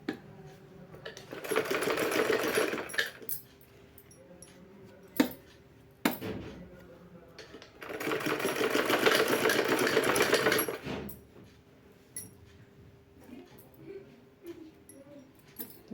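A sewing machine stitches warm shoes made from old clothes, running in two sustained bursts of about three seconds each, separated by quieter handling sounds and a few sharp clicks.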